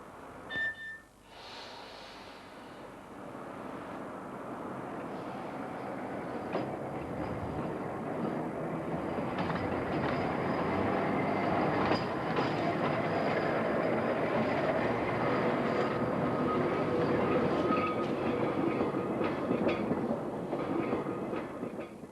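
A Manx Electric Railway tram on the Isle of Man, original 1890s rolling stock, running along the line: a steady rumble of wheels and rattling carriage that builds after a brief start and continues evenly.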